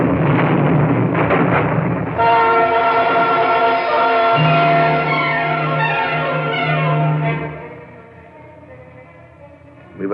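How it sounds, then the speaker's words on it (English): Carronade cannons on a ship fire in a heavy booming blast that rolls into a long, droning rumble and slowly fades, with no talk over it. "Our carronades went off on both sides"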